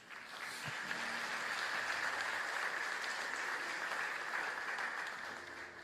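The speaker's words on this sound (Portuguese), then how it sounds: "Pode aplaudir a Jesus" A church congregation applauds in a steady, even wash of clapping that holds throughout, fairly close and filling the room, with no talk over it.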